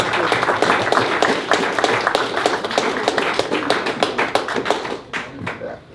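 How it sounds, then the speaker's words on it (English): Small audience at a fall soccer league press conference applauding, a close, lively burst of many hand claps that thins out and fades over the last second. "if we could give an applause for Rich in here for joining us"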